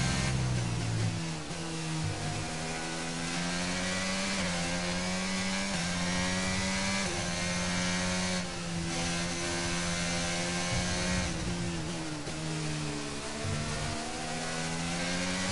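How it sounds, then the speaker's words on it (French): Charles Leclerc's Ferrari Formula 1 car in the F1 22 racing game, a high-revving engine climbing through gears with repeated upshifts and brief dips, loud and continuous. "ça revient pour Charles Leclerc avec sa Ferrari"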